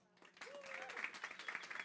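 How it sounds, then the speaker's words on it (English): Warm applause from an audience at the kick-off event of the seventh Hackathon for Good, a steady patter of clapping at moderate level rising after a brief moment of voice and continuing throughout. "Please give it a warm applause."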